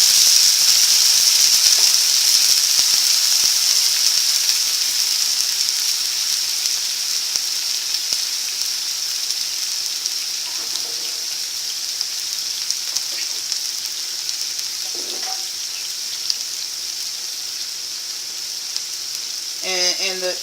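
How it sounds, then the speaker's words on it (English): Bean sprouts and tofu fry in olive oil with a steady, loud, even sizzle that barely changes throughout, plus a few faint clinks and a short rattle near the end. "go ahead and put our bean sprout with the tofu. And let that go ahead and cook."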